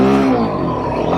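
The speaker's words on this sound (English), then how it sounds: "It will spin the tires." A Royal Enfield Himalayan 450 on knobby tires revs loudly and close by, its engine holding a strong, steady drone as the tires spin on pavement.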